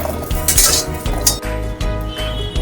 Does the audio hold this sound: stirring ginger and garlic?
yes